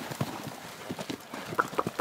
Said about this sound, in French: ça c'est un cheval qui a de l'emprise sur le bétail